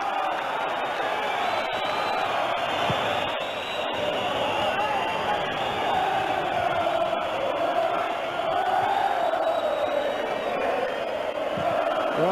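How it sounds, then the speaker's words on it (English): Crowd noise in a football stadium during an English League Cup match, a continuous roar of cheering and applause from a large audience, steady and dense throughout with a commentator's voice faintly mixed in. "grabs it and gets a raucous round of applause"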